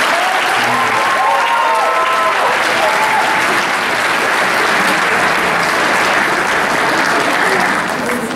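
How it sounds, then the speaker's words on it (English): Audience applause at a school band concert: a sustained, loud wash of clapping from a crowd filling the room, steady throughout without pauses. "Let's give a round of applause."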